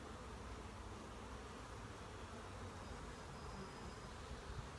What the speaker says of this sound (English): We got a lot of bees in that hive.